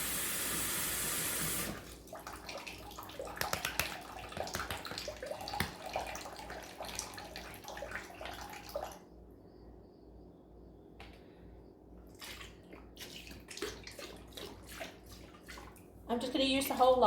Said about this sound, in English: I'm just filling the sink up with some hot water